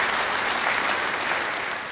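A church congregation applauds warmly during a worship service, dense steady clapping that fills the whole moment and eases off slightly toward the end.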